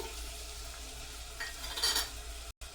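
Carrots fry in a pan for vegetable biryani, with a soft, low sizzle and a few scraping stirs and light utensil clinks near the end.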